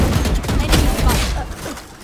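Rapid gunfire bursts from a Valorant match, loud and dense with sharp overlapping shots and impacts through the whole stretch, fading slightly toward the end.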